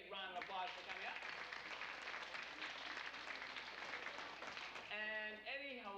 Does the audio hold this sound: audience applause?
yes